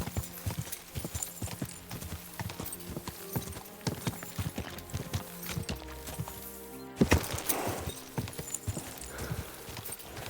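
Horse hooves gallop in a steady, driving clip-clop rhythm in Kingdom Come: Deliverance II, loud and close throughout, with a brief neigh and a sharp burst near the end.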